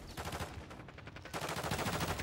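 A rapid automatic weapon in Call of Duty MW3 fires in close, loud bursts with a brief dip midway before the rattle resumes at full strength.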